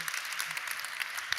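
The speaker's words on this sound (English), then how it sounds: "Don't clap too soon." Audience applause at a summit talk, a faint, steady patter of many hands clapping briefly in a hall, heard alone without talk.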